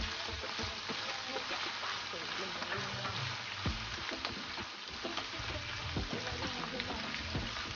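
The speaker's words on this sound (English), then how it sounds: "We're going to go on and fry our mussels in." Mussels frying in a little oil in a pan, a steady close crackling sizzle with scattered pops and stirring scrapes throughout.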